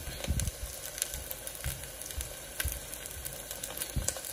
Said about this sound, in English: so one is sizzling in the grease right now, in the oil.